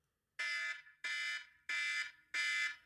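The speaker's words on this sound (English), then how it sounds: "so now we're going to get the alarm" An alarm sound effect on a podcast, four loud, evenly spaced electronic beeps in a steady, pulsing rhythm, each a harsh buzzing tone, with no voices.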